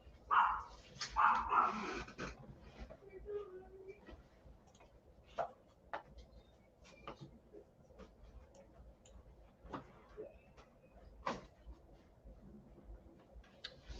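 A dog barks a few times, faint and somewhat distant, with a short burst early on and then sparse, quiet sounds in a mostly calm room.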